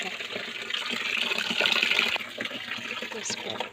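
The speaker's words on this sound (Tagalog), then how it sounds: "So I'll just go hand wash." Laundry being washed by hand in water makes a continuous wet sloshing and splashing, with fabric rubbed and swished through the water in the foreground.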